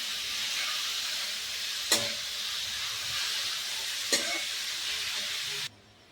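Grated carrot sautés in a pan for halwa, giving a steady broad steamy hiss that holds evenly, broken by two sharp spatula taps, before cutting off abruptly near the end.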